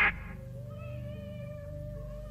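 A baby in a horror animation cries in a wavering, drawn-out wail over a soft Ave Maria melody playing in the background, loud at the start and then sustained at a steady level.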